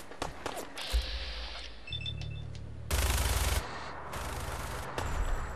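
Gunfire in Fallout 4 arrives as dense, loud bursts of rapid automatic shots in several separate volleys, layered with low rumbling and other game effects.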